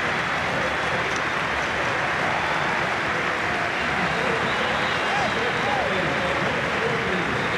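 Stadium crowd at a Boca Juniors vs. Independiente football match applauding a substituted goalscorer, a dense, sustained roar of clapping and cheering with a commentator talking over it.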